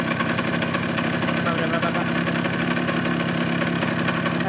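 A Suzuki GP100 two-stroke motorcycle engine with worn piston and cylinder runs steadily up close, a dense continuous idle laced with metallic piston-slap rattle throughout.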